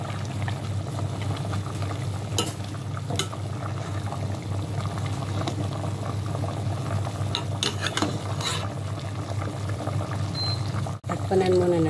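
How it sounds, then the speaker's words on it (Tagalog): Soup with sweet potato and chicken cube bubbles in a pot while being stirred, a steady simmering burble with occasional scraping clinks, and a clatter near the end. "Haluin na natin."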